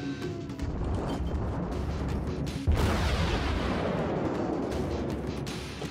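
Heavy naval gunfire in World of Warships, with HE shells launched from a warship's guns: a dense, rumbling barrage that swells into a loud boom partway through and then sustains thick, roaring low-end blasts.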